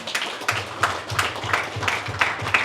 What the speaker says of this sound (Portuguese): Obrigado pelas palmas, envergonhadas, mas obrigado